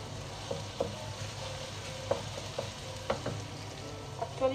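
Garlic sizzles and fries in a hot pan for lobster carbonara, giving a steady close crackle broken by occasional stirring scrapes and taps at irregular intervals.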